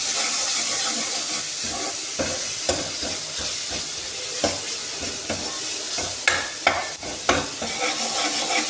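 A spoon stirring potato and eggplant frying in a pan with green chilies, giving a steady close sizzle broken by several sharp scraping clicks toward the end.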